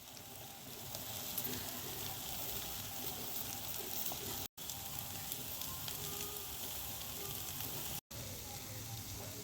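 Grated paneer sizzling and frying in a spice masala in oil, a steady dense crackle with occasional stirring, heard close and alone except for two brief dropouts.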